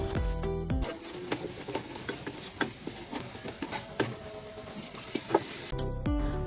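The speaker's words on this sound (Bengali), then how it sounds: "এখন মশলাটা ভালো করে কষিয়ে নিচ্ছি" Spice paste sizzling as it is sautéed for goat meat in a cooking pan, with a steady low frying hiss and scattered clicks of stirring and scraping, all close and moderately quiet, with no talk.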